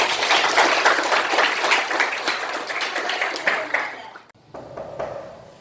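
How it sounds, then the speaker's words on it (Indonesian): A classroom of students claps together in loud, dense applause that carries on for several seconds, then fades out. "Kita kasih aplaus dulu untuk kita."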